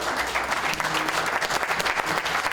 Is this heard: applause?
yes